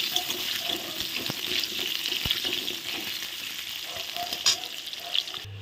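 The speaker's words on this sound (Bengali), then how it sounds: "হ্যাঁ, বারবার হাত ধুতে হয়।" Hands washed under a running kitchen tap while fish is cooked, a close, steady rush of water that carries on throughout and cuts off abruptly at the end.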